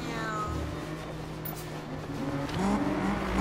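A modified car sweeps past in Need for Speed 2015 at a street car meet, its steady engine drone swelling loudly near the end, with no talk over it.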